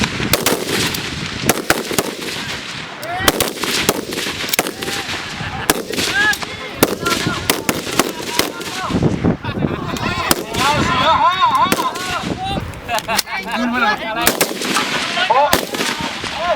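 M16 rifle shots at a military shooting competition, a run of sharp, loud cracks at irregular intervals, some in quick succession, over outdoor background noise and voices of people talking nearby.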